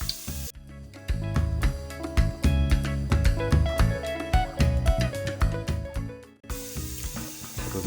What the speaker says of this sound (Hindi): अब हम इसमें जीरा शामिल करेंगे।